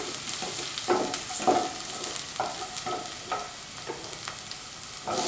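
Garlic sizzles in hot oil in a pan, a steady close crackling hiss with a few louder spits and stirring scrapes, no voices.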